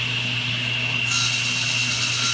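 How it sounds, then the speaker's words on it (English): A saw cuts steadily through a wooden board along a pencil mark, giving a continuous close rasping whine for the whole stretch, its tone brightening partway through, with no voices. "set my pencil mark right there, right onto the edge of this kerf, so that when I make a cut"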